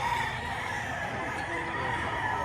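Gamefowl roosters crow and cluck at a busy outdoor market in Padre Garcia, Batangas. The sound is a continuous, fairly distant crowing, mixed with steady crowd hum.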